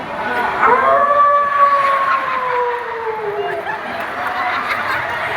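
A person imitates a howl, a long wavering tone that slides down in pitch and fades, over a noisy room background.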